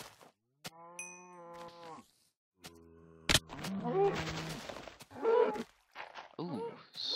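Minecraft cows mooing: a long low moo, then another, followed by shuffling noises and more muffled lowing, all fairly close.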